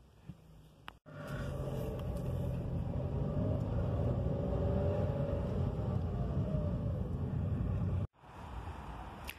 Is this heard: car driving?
yes